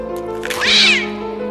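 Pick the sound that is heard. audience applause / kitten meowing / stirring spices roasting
kitten meowing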